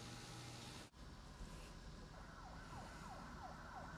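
A video game ambulance passes with its siren wailing in rising and falling sweeps, moderately faint over a constant background rumble.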